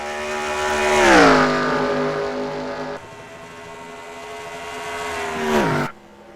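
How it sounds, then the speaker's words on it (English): A race car in an SSSR heat race at Atlanta roars loudly past, its engine note sweeping down in pitch as the driver rolls out of the throttle, then a second car swells and fades before the sound cuts off. "You can really hear the 2 car as he rolls out of the throttle."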